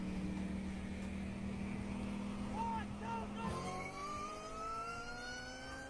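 A car engine whining and revving: a steady drone that gives way to a sharp rising whine climbing in pitch over several seconds, heard with background noise.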